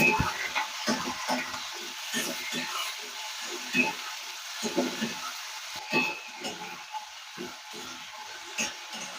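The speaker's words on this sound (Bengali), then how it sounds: "আলুটা দিয়ে 2 মিনিট ভেজে নিয়ে" Potatoes drop into hot oil seasoned with panch phoron in a pan, giving a steady hiss broken by irregular spatula scrapes and soft clatters. A voice is faintly heard at times.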